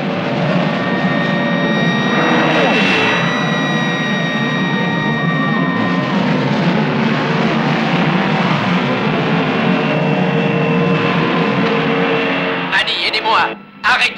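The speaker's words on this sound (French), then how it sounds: "Arrêtez le moteur!" A motor vehicle engine runs continuously as a loud, steady drone with shifting tones, ending in a brief burst of clattering noise.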